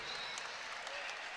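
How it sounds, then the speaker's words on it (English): Arena crowd applauding at the NCAA men's wrestling national championships, a dense wash of clapping heard from within the stands, with a voice talking faintly over it. "they were applauding him, recognizing military members."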